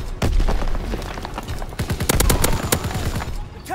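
Call of Duty WW2 gameplay with rapid bursts of rifle and machine-gun fire aimed at infantry near a tank, loud and close, shots cracking in dense clusters with booming impacts.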